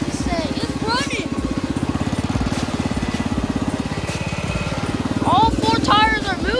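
A homemade redneck riding lawnmower engine runs steadily throughout, a rough, rapid putter close by with a faint metallic rattle, and someone talks over it the whole time.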